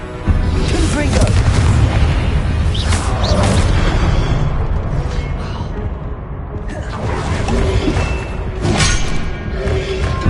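Explosive Confringo spell blasts in the video game Hogwarts Legacy, loud booming thuds and whooshes layered over dense battle noise and music throughout, with a voice calling out spells.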